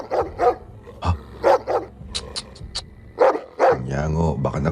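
A single dog barks in a few short, sharp bursts, spaced out and fairly close, between stretches of a person talking in Tagalog during a narrated horror story.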